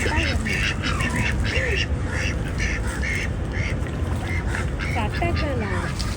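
Ducks quack repeatedly in a lively, continuous chorus at the Temple of the Tooth in Kandy, Sri Lanka, with voices talking over the flock throughout.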